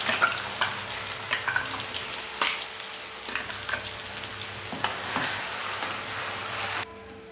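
Onion and garlic paste frying in ghee in a kadai, a near, even sizzle punctuated by spatula scrapes and knocks, cutting off abruptly near the end.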